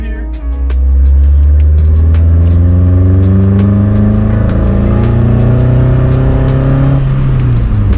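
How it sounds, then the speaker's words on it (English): A cheap, beat-up Mazda mini truck accelerates hard in second gear, its small engine climbing steadily in pitch for several seconds before the driver lifts off, loud and close from inside the cab. "A little second gear pull here."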